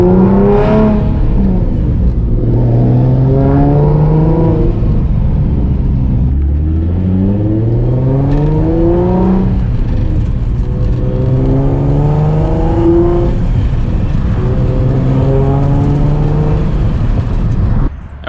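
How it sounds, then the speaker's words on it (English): A Nissan Z running without its hood is driven on a back road, its engine revving up and down repeatedly in loud, close rising and falling sweeps through gear changes, with no talking. "I'm not supposed to be driving my car right now"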